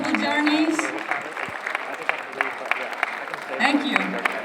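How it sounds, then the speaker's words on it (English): Audience at a women's day panel claps in a short burst of applause, moderately loud and somewhat thin, with a speaking voice over it. "let's give a big round of applause to all the women here."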